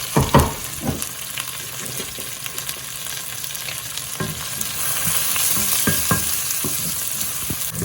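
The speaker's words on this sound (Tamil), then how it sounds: "வெங்காயத்தை மட்டும் வதக்கி ஒரு எழுபத்தஞ்சு வீதம் வதங்கி வரட்டும்" Onions fry in a generous amount of sesame oil for prawn puttu, a steady close sizzle with occasional scraping stirs and clinks, with no one speaking.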